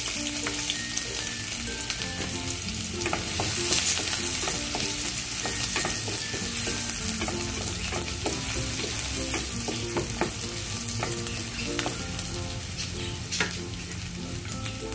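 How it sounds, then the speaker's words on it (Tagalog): Onions sauté in a pan for spaghetti sauce, giving a continuous sizzle with frequent stirring scrapes and clicks throughout. Faint tonal sounds run underneath, with no talk. "So, gigisa na natin yung ating sibuyas."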